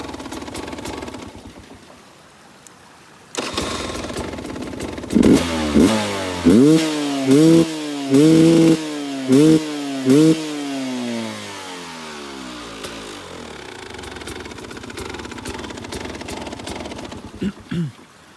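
A Sherco 250 SE dirt bike engine, a trials-style machine, starts up and is revved loudly in a series of short sharp blips, then settles back to a quieter idle, close by.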